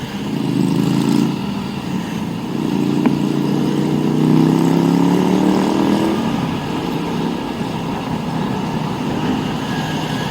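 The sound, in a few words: motorcycle engine passing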